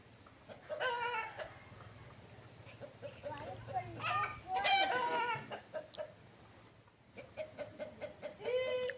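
Chickens cluck and squawk in bursts near a beach during a picnic, one hen running loose, with people talking in Tamil between the calls against a low outdoor rumble.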